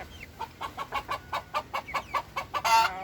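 Chickens cluck in a quick, steady series of short calls, about a dozen in three seconds, fairly faint, ending in a louder squawk.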